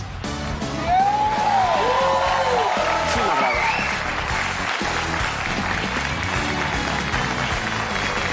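Studio audience applauding on a TV show, a sustained wave of clapping with some whoops that swells early and then carries on steadily, with a voice speaking over it.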